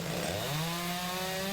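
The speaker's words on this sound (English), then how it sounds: "Chainsaws and a crew of men were brought in to remove a massive pine tree from the backyard" A chainsaw drones loud and steady as it cuts through a massive fallen pine tree in a Lemon Grove home's backyard, its engine pitch rising and holding during storm cleanup.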